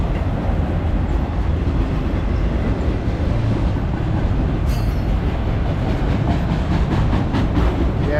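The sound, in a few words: BNSF westbound auto rack freight train slowing down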